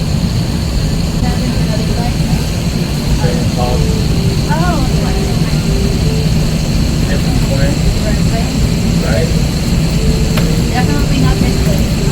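A steady airplane engine drone fills an airport scene with a constant low roar and a high whine, while people talk faintly in the background as passengers come off the plane.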